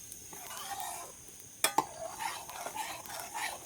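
Milk with cardamom powder for rasmalai is stirred in a pot, with soft scraping and swirling plus a couple of sharp utensil clinks against the metal, quiet and close.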